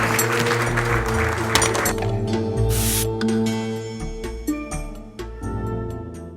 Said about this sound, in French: Je crois qu'elle mérite également des applaudissements collectifs